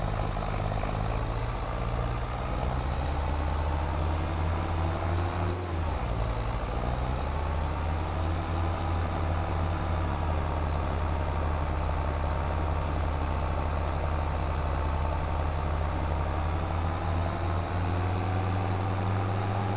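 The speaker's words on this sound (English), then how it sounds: "Come on, tractor, come on. Come on, I know, you're gonna struggle." Tractor engine labouring uphill in Farming Simulator 25, a loud, steady low drone that dips and shifts pitch briefly as it strains, running continuously without talk.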